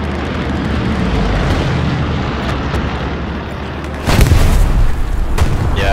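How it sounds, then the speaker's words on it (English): A loud anti-tank round explodes in Hell Let Loose, a World War II shooter, as a deep booming blast over dense rumbling battlefield noise. "they shot an AT round at us, killing like 10"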